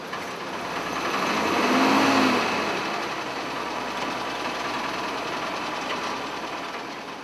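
A 9.3-ton M3 Diamond T halftrack with a 147-horsepower White six-cylinder engine idles with a steady, rough mechanical drone that swells briefly and then settles, heard close with no talk.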